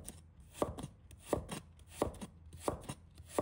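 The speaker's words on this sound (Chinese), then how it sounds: "1块生姜，把它切成片。" A knife slices a piece of ginger on a cutting board in a steady rhythm of crisp, close chops, each followed by a dull tap of the blade on the board, with no voices.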